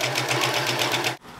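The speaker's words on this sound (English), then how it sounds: "And for the left armhole, you can just serge this off" A serger finishes a fabric seam with a rapid, even mechanical whir and pulsing rhythm, close and steady, then stops abruptly near the end.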